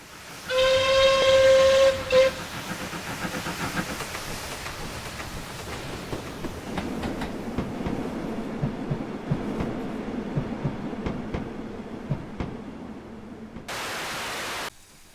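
A Caledonian Railway 262 class 0-4-2 saddle tank steam locomotive in Train Simulator gives a loud whistle blast near the start, followed by chuffing and rail rumble of the engine getting under way, with a hissing burst of steam near the end.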